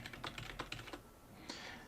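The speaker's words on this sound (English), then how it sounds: "I'm getting used to a new keyboard, so that's what's bugging me." Typing on a new computer keyboard: a quick run of close, crisp key clicks for about a second, a short pause, then one more tap, quiet and alone.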